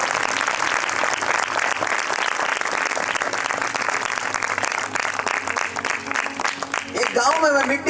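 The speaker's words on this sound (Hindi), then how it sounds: "आपका आमीन का आवाज, आपका ताली का आवाज ऊंचा आना चाहिए" A revival meeting congregation claps loudly and steadily, dense sustained applause filling the space with voices mixed in throughout.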